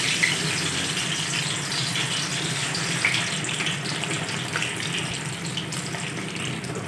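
Chicken pieces frying in hot oil over a medium flame for a Jama Masjid style chicken fry, a steady, loud, dense hiss and crackle running continuously without pauses, close up and with no talking.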